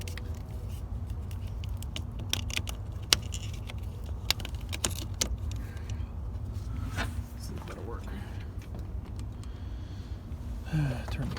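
Keys jangle and rattle in the ignition of a Coolster 125 ATV, a few sharp metallic clinks over a steady rumbling background, with a voice faintly present.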